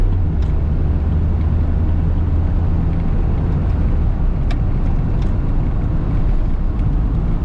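Steady, loud engine drone of a 1988 Mazda 323 being driven, a constant low rumble with road noise heard from inside the car, holding an even pitch throughout with no talk.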